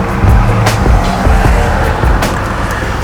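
A 1989 Jeep Grand Wagoneer driving along, its steady low engine and road rumble loud and close throughout with no talking.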